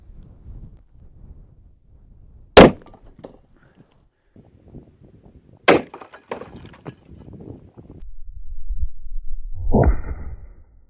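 .50 AE Grizzly hollow point rounds slam into cinder blocks outdoors on a windy, cold day, giving three sharp, loud cracks spaced a few seconds apart, with low wind rumble in between.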